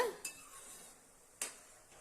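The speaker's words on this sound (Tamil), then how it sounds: "நல்லா இப்படி கலந்து விட்டுக்கிட்டே இருங்க அடிக்கடி அப்போ தான் அடியில் ஒட்டாமல் இருக்கும்" A spoon scraping and clinking in a pan as cream-derived butter simmers into homemade ghee, two short metallic knocks over a faint quiet bubbling, close and fairly soft, no speech.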